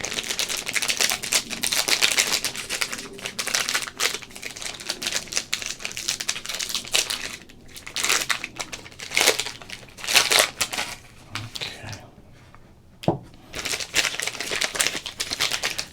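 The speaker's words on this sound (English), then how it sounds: "now we're going to do a little bit of a pack break here" A football trading card pack is torn open close up, its foil wrapper crinkling and crackling in dense, steady bursts with brief pauses and no talking.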